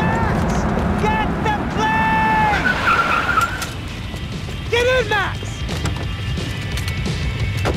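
In Max Payne 3, a car drives hard and skids, tyres squealing in several sharp bursts over a continuous engine rumble, with impacts and shouting voices mixed in.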